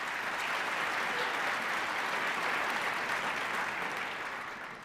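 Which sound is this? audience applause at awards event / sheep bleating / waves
audience applause at awards event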